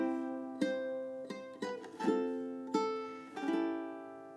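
A ukulele strums a chord-melody arrangement of the Star Spangled Banner, about seven strummed chords carrying the tune in a measured rhythm, close and ringing, with no voice.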